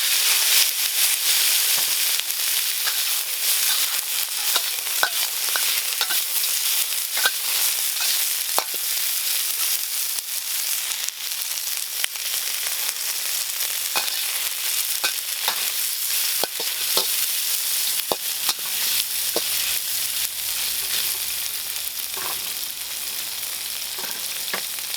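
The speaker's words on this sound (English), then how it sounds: "I'm going to chuck my prawns in now." Prawns hiss and spit in a hot pan, a dense, continuous sizzle peppered with small crackling pops throughout, heard close up with no voices over it.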